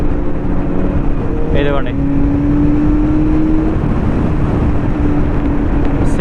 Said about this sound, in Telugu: ఇది ప్యారలల్ ట్విన్ సిలిండర్ ఇంజన్